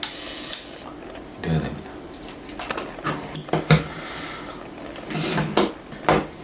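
Normally working Rollei 35 film camera shutter is fired repeatedly up close, producing several crisp mechanical clicks and snaps scattered over a few seconds with handling noise in between.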